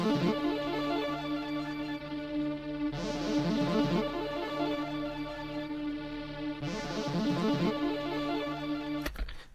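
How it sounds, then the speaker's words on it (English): Chopped, rendered melody samples for a dark beat play a simple looping phrase of dense tonal stabs, sustained and fairly loud, with the pattern restarting about every three seconds and a sharp hit near the end. "if I copy over those chopped pieces from the actual arrangement, they sound like this"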